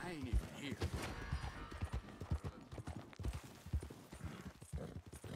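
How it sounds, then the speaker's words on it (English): Rapid rhythmic hoofbeats of a galloping horse in Red Dead Redemption 2, loud and continuous, with someone talking over them. "Man, this horse does not have good stamina."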